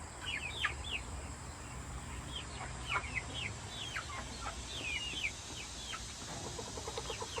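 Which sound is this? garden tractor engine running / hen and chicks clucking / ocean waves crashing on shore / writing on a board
hen and chicks clucking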